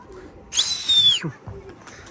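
A young pigeon near its coop gives one high, drawn-out squealing call lasting about half a second, followed by a few short, soft, lower sounds.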